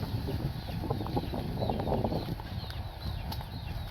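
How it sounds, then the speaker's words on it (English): Chickens and baby chicks cluck and chatter softly on a farm in Vietnam, a busy outdoor setting, short calls scattered over a steady background hum. "And all the chickens."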